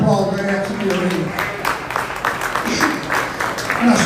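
Spectators at a market lamb show give a round of applause, a steady patter of many hands clapping under a speaking voice, moderately close.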